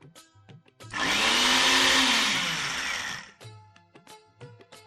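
A mixer grinder grinds a coarse spice mixture with citric acid in one loud whirring burst of about two seconds, with brief quiet voices and handling sounds before and after.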